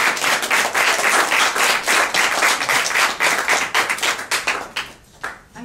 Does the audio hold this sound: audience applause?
yes